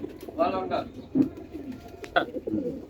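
Pigeons coo softly in a loft, several short low coos mixed with someone talking nearby.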